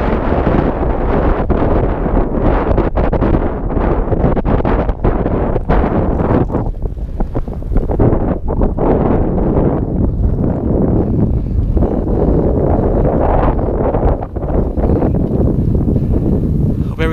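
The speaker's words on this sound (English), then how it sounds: "It's a beautiful little breezy out here on Thanksgiving" Steady outdoor wind buffets the microphone on a breezy Thanksgiving day, a constant loud rumble with gusty rustling and occasional faint voices beneath it.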